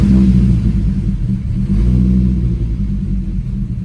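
A close, loud big-turbo Volvo 850 engine runs with a low, uneven rumble, its idle wavering and surging roughly rather than holding steady.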